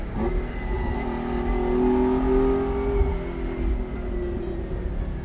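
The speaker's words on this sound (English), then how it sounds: "You have that noise I mentioned behind you." A Ferrari 246 GTS Dino's engine revs up and holds a rising, sustained drone, loud and close, then eases off, with no one speaking over it.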